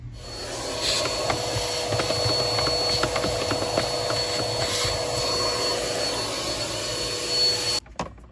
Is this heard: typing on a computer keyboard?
no